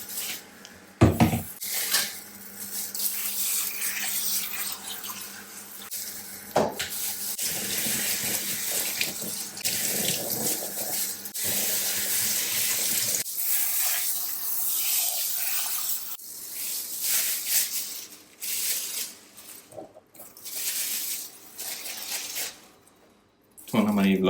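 Kitchen tap water runs steadily for long stretches while seafood is washed in a sink, with pans and utensils clinking nearby and someone talking at times over the flow.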